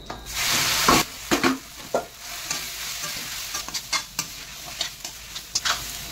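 Soybeans hit a hot frying pan and get stirred, with a heavy scraping toss at the start, then a steady sizzle under rapid, uneven clacks and scrapes of the spatula.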